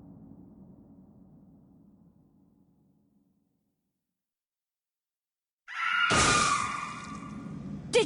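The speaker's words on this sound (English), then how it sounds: "Follow the sound of that scream!" Scream in a RuneScape quest, One Piercing Note, from the video game. Faint low murmuring fades to silence, then a sudden loud, piercing scream erupts and holds for about two seconds.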